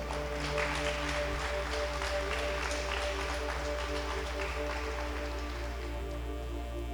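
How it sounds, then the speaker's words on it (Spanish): A church congregation applauds in a steady, dense wash of clapping, laid over a constant low electronic hum and tonal drone. "Dale un aplauso al Señor si tú lo crees."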